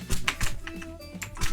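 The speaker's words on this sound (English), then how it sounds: "Not too hard on the keyboard though." Rapid, hard keystrokes on a computer keyboard during gameplay, clattering in quick uneven bursts up close with game sounds faintly underneath.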